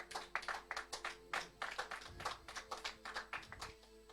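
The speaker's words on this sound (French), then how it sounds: "Ton acclamation est encore timide" A church congregation at a Sunday service claps in a quick, uneven rhythm, a steady run of sharp hand claps at moderate distance with no one speaking over them.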